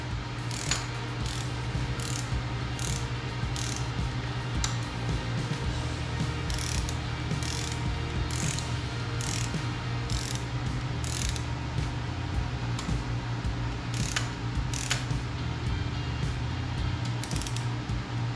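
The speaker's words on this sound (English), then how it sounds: "A couple cranks at a time. On both bolts and sneak up to the torque." A ratchet wrench clicking in short bursts as it tightens connecting rod bolts on a forged LSA engine for a Chevelle, crisp repeated clicks close by over a steady low hum, with no speech.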